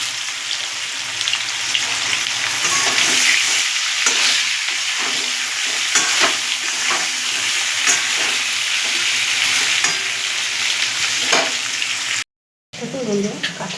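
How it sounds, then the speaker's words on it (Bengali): Boiled potatoes fry in oil in a pan during Bengali home cooking, with a continuous close sizzle and intermittent stirring scrapes, then a brief drop to silence before the sizzle resumes. "এবার আমি সিদ্ধ করা আলুগুলো দিয়ে দেবো।"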